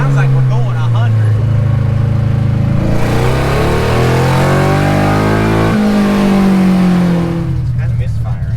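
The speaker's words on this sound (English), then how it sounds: "It's kind of misfiring" A car engine revs loudly up and down, climbing and then dropping in pitch, and sputters unevenly as it misfires, with people talking over the roar.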